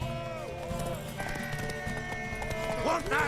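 Horse hooves clip-clop in The Witcher 3 amid a busy game mix, with a whinny-like tonal call and music-like harmonic layers; rhythmic hoofbeats run throughout while a voice speaks over parts.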